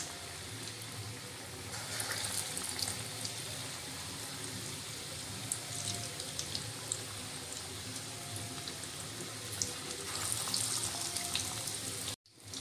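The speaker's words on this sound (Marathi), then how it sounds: "असे आपण सर्व वडे सोडून घेऊ" Vada patties frying in hot oil for vada pav make a continuous soft bubbling sizzle at a low level that stays even throughout and cuts off abruptly at the end.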